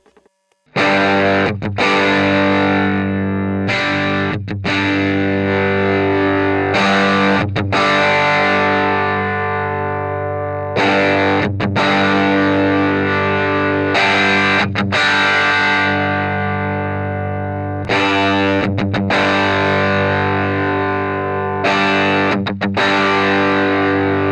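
A distorted electric guitar through a Shift Line Twin MkIIIS preamp with overdrive plays sustained, gritty chords in repeated phrases, loud and close, with no talking.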